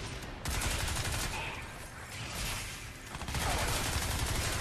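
Sustained bursts of automatic gunfire rattle during Crysis 3 gameplay, loud and dense with a brief lull midway, while a player talks faintly.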